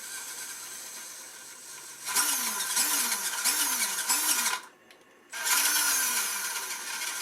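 A 1/16 scale RC military truck fitted with an ESC and engine sound unit gives a buzzing simulated engine drone with rising revving sweeps, close and fairly loud, cutting out briefly before resuming.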